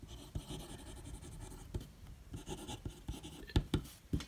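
A Pelikan M805 fountain pen with a medium nib writes on paper, giving soft close scratching strokes with a few sharper taps as the nib lifts and touches down, quiet and without talk.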